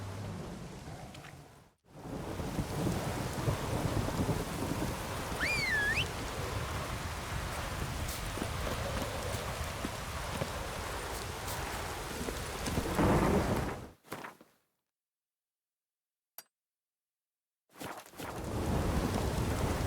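In The Witcher 3 video game, a thunderstorm roars with steady rain and rumbling thunder, loud and continuous, then cuts to near silence before the downpour returns at the end.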